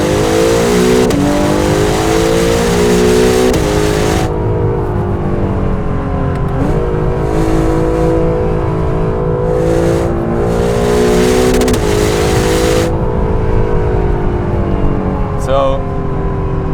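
A 2017 Acura NSX hybrid accelerates hard, its engine revving loud and close with rising harmonic sweeps across several gear changes, the combustion note continuous throughout with faint talk beneath.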